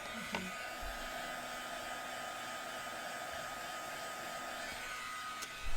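Handheld heat tool blowing hot air to dry layers on a craft project, a steady loud whirring hiss of airflow running throughout with a faint click near the start and end.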